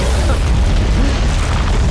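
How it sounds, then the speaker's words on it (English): Celebration cannons boom at the Dota 2 TI4 championship final, a loud, dense, continuous rumble of blasts filling the arena, with crowd noise blended underneath. "Those are cannons."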